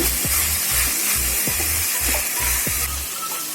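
Paneer for fried rice sautés over a medium flame, a steady loud sizzle broken by regular thumping stirring strokes against the pan, close up.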